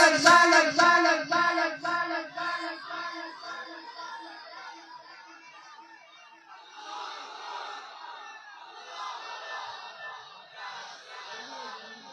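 A crowd at a religious gathering chants the slogan Labbaik Ya Rasool Allah in loud rhythmic unison, then answers in softer repeated call-and-response lines.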